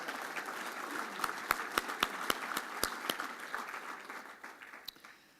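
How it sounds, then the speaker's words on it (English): Audience applause fills a hall at the 2018 Kentucky Entrepreneur Hall of Fame ceremony. Crisp claps ring out through a steady clapping texture before it thins and fades toward the end. "Let's have one more round of applause for Shane and Greg and Alice"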